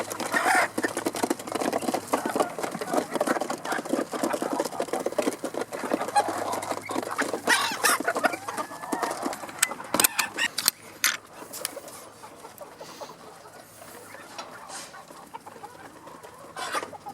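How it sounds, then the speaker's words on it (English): A flock of chickens being herded toward a pen, clucking and scratching about steadily at close range with busy overlapping calls and rustling, thinning out in the final seconds. "Too many chickens."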